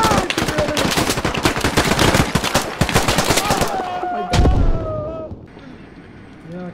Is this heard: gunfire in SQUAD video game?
yes